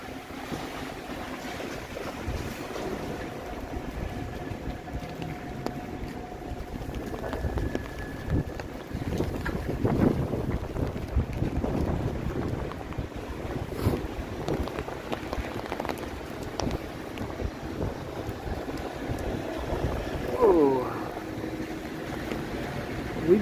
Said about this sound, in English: We got wind.